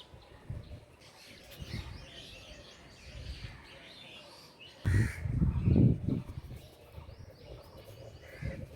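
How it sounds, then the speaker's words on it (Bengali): Outdoors in spring, crows caw and smaller birds chirp at a moderate distance, with a louder burst of cawing midway through and a faint outdoor hum underneath. "যত পাখির ডাক শোনা যায়,"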